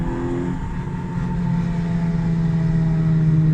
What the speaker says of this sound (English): It could be like axle bearings, or maybe input shaft bearing. It seems like it's louder on the left side of the car.